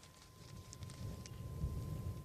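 Thunderstorm with rain during a tornado near Lake George, Colorado: a steady broadband wash of rainfall with low rumbling thunder building toward the end, continuous and moderately distant, with no talking.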